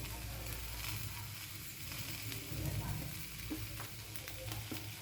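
Potatoes fry in hot oil with cumin and coriander powder for a pumpkin and potato curry, giving a continuous close, even sizzle with faint crackles and occasional stirring scrapes.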